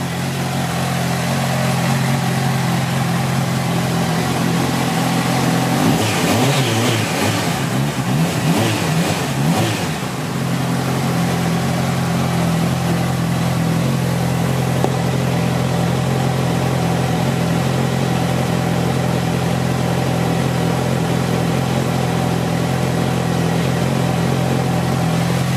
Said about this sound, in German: jetzt lassen wir mal wieder den Motor sprechen hier